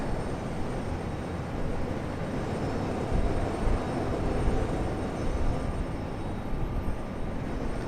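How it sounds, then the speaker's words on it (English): An Air Canada airliner departs Raleigh-Durham International Airport. Its engines give a steady broadband roar that stays loud and even from start to finish, with no talking. "Alright, Air Canada up next."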